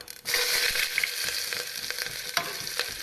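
Onion dropped into hot oil with cumin bursts into a loud, steady hissing fry right after a brief quiet start, with a few scattered pops and scrapes of stirring, close up and free of speech.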